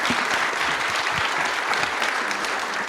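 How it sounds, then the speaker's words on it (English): Audience applause at a government testing showcase event, steady and dense clapping from a seated crowd filling the hall for the full duration, with no talk over it. "Give another round of applause."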